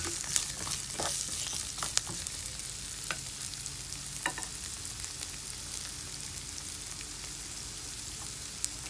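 Ginger sizzling and frying in a hot pan as the base for chicken feet adobo, a steady crackling hiss with occasional sharper pops and stirring scrapes, close and continuous with no talking.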